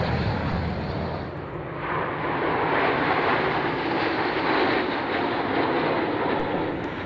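The Wingwalkers display aircraft taking off from runway 27 at Fairford, a loud, steady roar of aircraft engine that swells slightly as it passes, with no voices.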